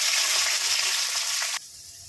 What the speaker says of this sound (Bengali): পেঁয়াজগুলো কেটে রেখেছিলাম, তেলটা গরম হয়ে গেছে, ভেজে নেব।